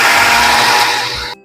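A mixer grinder whirs loudly and steadily as it grinds momo filling with oil, then the motor winds down and cuts off abruptly near the end.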